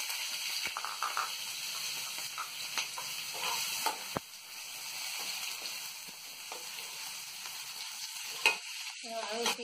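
Diced potatoes for a samosa filling fry steadily in hot oil, giving a continuous soft sizzle with occasional stirring clicks and scrapes, no voices present.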